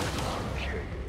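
Gunfire from the video game XCOM 2, a dense, loud burst of shots and booms filling the moment with no pauses.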